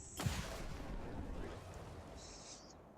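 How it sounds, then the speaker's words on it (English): A single sharp sniper rifle shot in XCOM 2, a close, loud crack with a rumbling tail that fades over a couple of seconds, followed by a brief high electronic tone near the end. "a nice little execution with the sniper"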